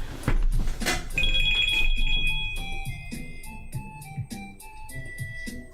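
A mobile phone ringtone plays loudly and close, a repeating electronic melody of bright tones that keeps ringing throughout, indoors during a drawing session.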